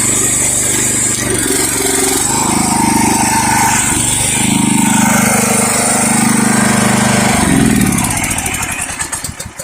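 A pressure washer's small gas engine and freshly replaced pump run loud and close after startup, a steady throbbing drone that shifts pitch midway and begins to die down at the end.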